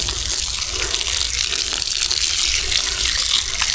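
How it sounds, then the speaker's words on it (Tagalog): Water gushes steadily from a hose or tap while jackfruit and coconut seedlings are watered outdoors, a continuous close splashing flow lasting the whole stretch without speech. "Tubig yun siya oh."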